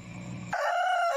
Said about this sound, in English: Why is there a freaking rooster in your house?